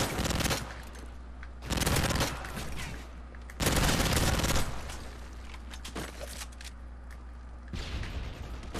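Rapid PP90 gunfire in the video game Modern Warfare 3, loud automatic bursts a second or so long repeating several times over a steady background of game noise.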